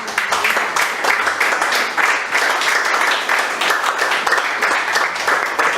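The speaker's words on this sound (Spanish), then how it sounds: "¿Quién le da un aplauso al Señor?" A church congregation bursts into sustained applause, dense steady clapping from many hands filling the room at close range, with a few voices mixed in beneath it.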